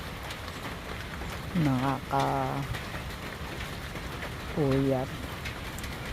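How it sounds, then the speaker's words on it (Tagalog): Steady rain hisses on a dark night, with a few soft pigeon or dove coos rising over it and a brief spoken word. "Umuulan na naman."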